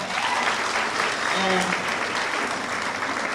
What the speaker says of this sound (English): So, give you a round of applause, come on.